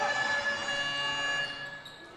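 A steady, sustained electronic buzzer sounds at the end of a period in a girls high school basketball game between Lewis County and Greenup County, holding for about two seconds and fading slightly at the close, with faint arena noise beneath.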